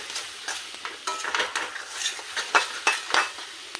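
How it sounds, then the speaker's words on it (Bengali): Tomato and garam masala powder, with ground green chilli and a little sugar, being stirred in a pan: a run of irregular scraping strokes and soft utensil clinks over a low sizzle, close and fairly loud, no voices. "এবার এটাকে ভালো করে নেড়ে নিতে হবে"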